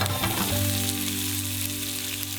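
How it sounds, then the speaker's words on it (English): Bok choy tossed in a hot pan with a little sesame oil hisses in a steady, close sizzle throughout, with a low hum running underneath. "A tiny bit of sesame seed oil goes in. And literally, we just toss that around in the pan."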